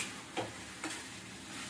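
A palak chicken curry with coriander powder being stirred in a pot: a faint, quiet sizzle broken by two brief soft scrapes of the spoon, close by, with no voices.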